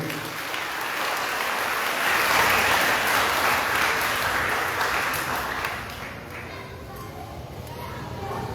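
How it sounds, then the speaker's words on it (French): A school audience applauds at the Collège Évangélique Baptiste de Plaisance 75th-anniversary celebration, a dense, steady wash of clapping that peaks midway and eases off slightly toward the end. "Votre applaudissement s'il vous plaît."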